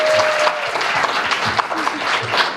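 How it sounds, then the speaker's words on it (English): Applause for Girl Scouts at a town council meeting, a sustained wash of clapping from a roomful of people, steady and close, with some voices mixed in. "we'll give them a round of applause"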